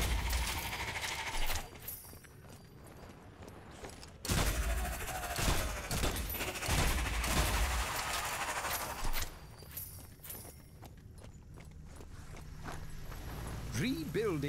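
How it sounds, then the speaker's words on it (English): Gunfire in the video game Strange Brigade, bursts of shots and clattering mechanical clicks in loose clusters, with talk over parts of it. "Shooting."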